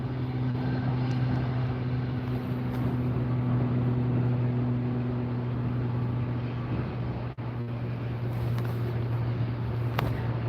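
A JetBlue airliner departs LAX, its engines producing a steady, loud, continuous roar with a low hum throughout, briefly dipping near the end before resuming.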